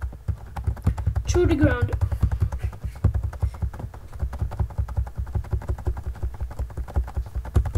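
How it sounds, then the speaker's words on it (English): Repeated rhythmic chopping hits on a tree in a video game, steady taps running throughout under someone talking, with the tree falling near the end. "Now I'm gonna cut this tree. And cut it and cut it until it"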